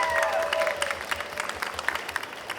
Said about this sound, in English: Give a round of applause for these guys.